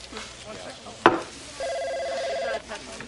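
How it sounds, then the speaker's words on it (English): An electronic telephone trill rings once in an office drama scene, a sustained tone lasting about a second after a sharp knock, with faint voices around it. "Your phone."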